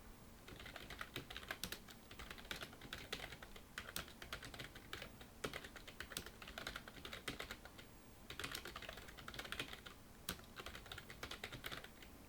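Rapid, close keystrokes on a computer keyboard as Hangul text is entered, clicking in quick bursts with brief pauses and no talking.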